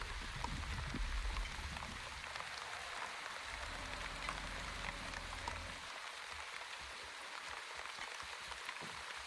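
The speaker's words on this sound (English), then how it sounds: "It is raining, which raises humidity." Steady rain falls in The Wandering Village video game, a continuous dense patter, loud and even throughout with no voices.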